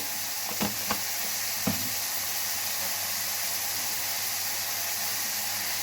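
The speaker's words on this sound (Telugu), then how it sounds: "అలా ఉల్లిపాయ పచ్చిమిరపకాయ వేగేటప్పుడు" Onion and green chillies frying in a pan, giving a steady close sizzling hiss with a few brief stirring scrapes near the start.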